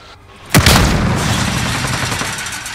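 A loud, close explosion from incoming rounds in Call of Duty: Modern Warfare bursts suddenly, then leaves a long roaring, rumbling tail of debris and echo that slowly fades.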